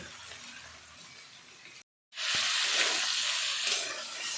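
Fish head fried with potato, ginger, garlic, onion and spices sizzles and hisses in a pan, breaking off briefly before the frying noise returns louder and brighter with a faint clink.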